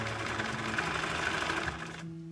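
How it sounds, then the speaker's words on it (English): A domestic sewing machine runs a zigzag stitch through fabric for a drawstring bag, a steady fast mechanical whir with rhythmic needle chatter that stops near the end. "pop it under the sewing machine, change my machine onto a zigzag stitch"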